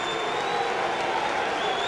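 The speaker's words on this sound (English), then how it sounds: "the rapturous applause rings round this stadium as the Cougars take the field" Rapturous crowd applause ringing round a rugby league stadium as Keighley Cougars take the field against Huddersfield in 1994, a dense, steady wash of distant clapping and cheering heard alone.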